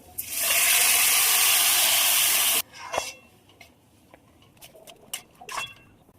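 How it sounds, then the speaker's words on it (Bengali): Water poured into a washed pressure cooker in a home kitchen, a loud steady splashing rush for about two seconds, then scattered clinks, drips and light handling knocks. "প্রেসার কুকারটা ধুয়ে একটু জল দিয়ে দিলাম"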